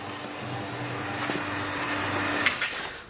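A vacuum pump drawing moisture out of candies runs as a steady, fairly quiet mechanical hum with a few small clicks near the end.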